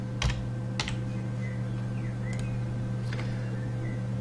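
Several computer keyboard keystrokes tap out a file name, close and sparse, over a steady electrical hum.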